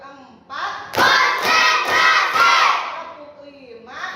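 Classroom children doing a counting clap game for an ice-breaker, a few loud, unison hand claps in a quick rhythm mixed with children shouting together, close and lively, fading out.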